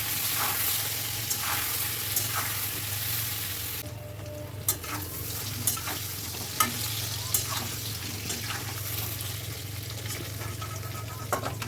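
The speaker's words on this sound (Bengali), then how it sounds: "সেদ্ধ করে রাখা আলুগুলো দিয়ে দিলাম তেলের ভেতরে, ওগুলোকেও একটু ভেজে নেব।" Boiled potatoes frying in hot oil with salt and turmeric, a continuous close sizzle broken by a few sharp stirring clicks and spatula taps, no talking.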